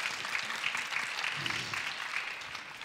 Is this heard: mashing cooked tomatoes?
no